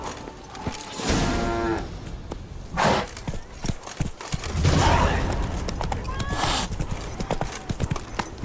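Roach, a horse in The Witcher 3: Wild Hunt, clip-clops and neighs in the foreground, with hoofbeats running through the span and a clear whinny partway through.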